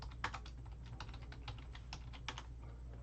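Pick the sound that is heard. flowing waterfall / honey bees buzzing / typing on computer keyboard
typing on computer keyboard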